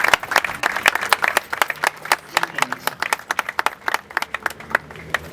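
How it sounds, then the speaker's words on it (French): An audience at a ceremony in Toulouse stands to applaud a departing artist, giving dense crowd clapping with loud, sharp individual claps punching through near the microphone. "que nous nous levions pour applaudir l'artiste qui s'en va"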